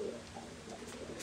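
Pigeons kept in a cage at a small home loft coo softly and steadily in low, murmuring phrases, fairly close, with faint background hiss and no talk.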